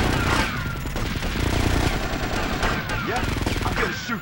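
Rapid gunfire crackles in GTA Vice City Stories, with dense automatic bursts and sharp shots layered over a loud, busy game mix that never lets up.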